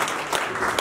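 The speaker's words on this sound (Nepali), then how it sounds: "हामी सबैको सम्मानको लागि एकचोटी ताली लगाइदिउँ ल" Audience applause at a large poetry gathering in Nawalparasi, a steady dense wash of clapping hands lasting under a second, moderately loud and with no voices.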